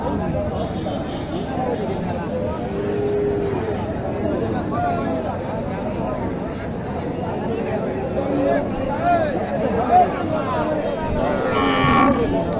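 A cow lows at the Mataji cattle market in Naogaon district among local cows and Sahiwal calves, its drawn-out calls set against steady crowd chatter and people talking nearby.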